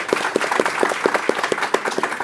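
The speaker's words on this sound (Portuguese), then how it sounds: "imensos aplausos a vocês pela excelente conversa e exposição" After a panel discussion, an audience claps steadily and rhythmically through the short clip, with some distinct individual claps standing out.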